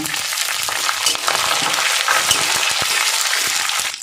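Ginger and garlic sizzle loudly in hot oil, a bright continuous crackle close by, dotted with quick clicks and scrapes of stirring and no voices.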